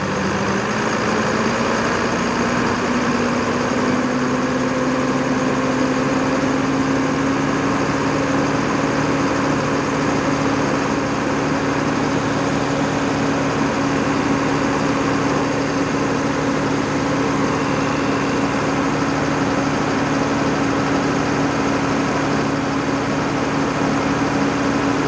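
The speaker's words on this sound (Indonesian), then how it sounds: "Kayak gini ya suara dari V6 ya, khas banget." A V6 diesel engine idles steadily in an older Safari Dharma Raya bus, a loud, close, continuous low rumble with a constant droning hum that rises slightly in pitch as it settles, with no talking over it.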